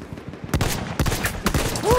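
Medic rifle fire in a World War-style shooter game: three or four sharp, loud single shots about half a second apart, with other game gunfire and effects around them.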